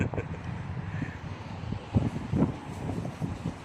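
Steady wind rushes past the microphone at an outdoor bus stop in a low, rumbling blow, with faint thumps and outdoor noise mixed in.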